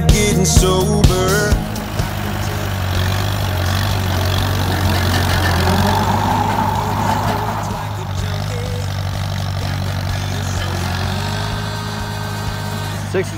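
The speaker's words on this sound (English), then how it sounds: "Hunter's on the tractor right now, brush hogging." An Allis Chalmers C tractor brush hogging runs as a steady engine drone with a low rumble throughout, loud and continuous, with some clattering in the first couple of seconds.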